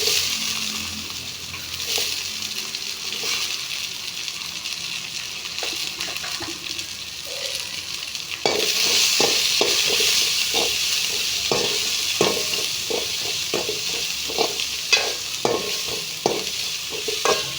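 Vadagam and onions frying in oil for a neem flower kuzhambu, a soft steady sizzle that jumps louder midway, with repeated scraping stirs and light clinks close by and no voices.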